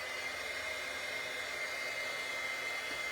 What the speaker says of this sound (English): I'm going to turn my heat gun on and let it warm up just a little bit